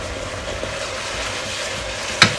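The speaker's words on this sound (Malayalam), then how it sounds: "ഇനി നമുക്കിതിലേക്ക് മുന്തിരി ചേർത്ത് കൊടുക്കാം." Grapes are added to a hot, sweet pineapple curry in a pan, with the heat already off. A soft, even hiss runs throughout, and one sharp clink of a utensil near the end.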